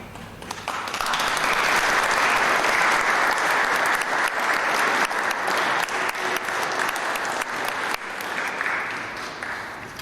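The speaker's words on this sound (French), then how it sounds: "Étienne et Dorine, les applaudissements que vous venez d'avoir, c'est un soutien" Wedding guests in a church burst into sustained applause for the newlyweds right after the blessing, a dense, close clapping crowd that swells, holds for several seconds and tapers slightly at the end.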